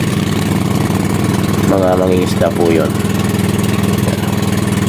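A fishing boat's motor runs with a steady, loud droning rumble throughout, while someone talks briefly over it.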